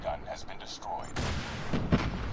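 Shotgun gunfire in the mobile shooter COD Mobile: after a stretch of speech, a loud blast lands, followed by a sustained roar and two sharper reports close together.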